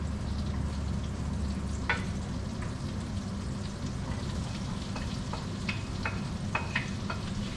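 Coarsely diced onion frying in a pan, a steady close sizzle and crackle with occasional sharper pops and a few stirring clinks, no talking.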